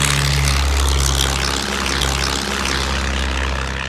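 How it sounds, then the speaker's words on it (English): Biplane propeller engine droning loud and steady at close range, a continuous rumbling roar with a low pulsing beat that runs throughout, without any talk. "Let's check out the biplane."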